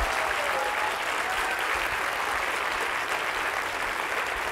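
An audience at a conference's closing keynote gives a sustained round of applause: a thick, even wash of many hands clapping at once, holding a constant level from start to finish.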